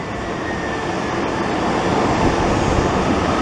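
A mail-carrying airplane passes at an airport, a steady broad jet roar with a faint whine that slowly swells in loudness.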